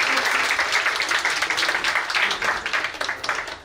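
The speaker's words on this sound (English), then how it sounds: "Another round of applause for her." An indoor audience at a Diwali celebration applauds steadily, a dense wash of many hands clapping at fairly even loudness throughout the short stretch, with no speech over it.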